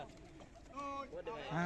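A pigeon coos softly a few times, low and throaty, close by amid quiet background noise.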